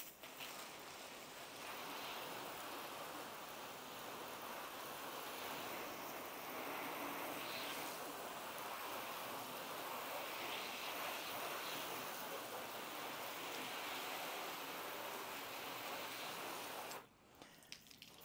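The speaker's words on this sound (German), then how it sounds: "Wasser auf diese Haube drauf und schauen uns mal, wie jetzt im Moment das Abperlverhalten auf beiden Hälften aussieht." Water spraying steadily onto a sealed car hood during a paint sealant beading test, a continuous close hiss lasting throughout with a brief break near the end.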